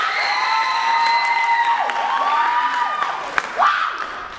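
High school comedy improv audience clapping and cheering, a continuous dense wash of applause with shrill whoops and children shouting over it, loud and close throughout.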